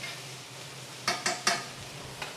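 Red pepper dropped into a hot pan with carrots for a breakfast veggie scramble: a low steady sizzle runs throughout, and three quick clattery stirs near the middle are followed by a fainter one at the end.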